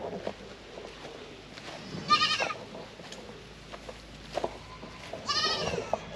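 Weaned pygmy goats bleat twice, a few seconds apart, at moderate distance. Each call is short and wavering over quiet outdoor background noise, with no clear talking.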